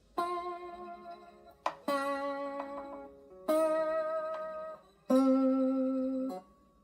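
Cigar box guitar played with a slide, picking out the Rick and Morty theme in a few sustained, sliding notes with vibrato, separated by short gaps, quiet and close, with no voices.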